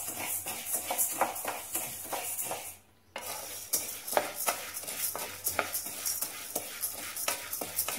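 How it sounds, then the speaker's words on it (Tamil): Urad dal dry-roasting in a pan, stirred with a spoon: steady scraping and rattling strokes over a light sizzle, close and fairly loud, with a brief pause near the middle before the stirring resumes. "இந்த பக்கம் உளுந்து வறுத்துட்டு"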